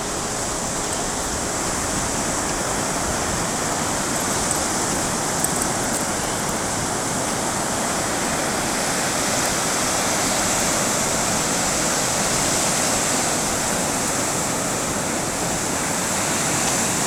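Steady, loud broadband roar of ocean surf near the jetty at a coastal campground on the Oregon Coast, continuous wash of waves with no break and no voices.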